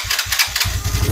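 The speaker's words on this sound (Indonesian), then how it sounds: "mesinnya lumayan enak, kita nggak bilang enak ya, ada sedikit kemericik-kemericiknya, tapi mungkin itu ciri khas motor tua ya" An old motorcycle engine is kicked over and catches, sputtering through a few uneven bursts before settling into a loud, steady running note close to the microphone.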